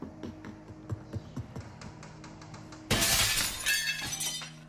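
Glass shatters in the video game Receiver 2, a sudden loud burst of breaking glass with a tinkling tail, preceded by a series of soft footstep-like thumps.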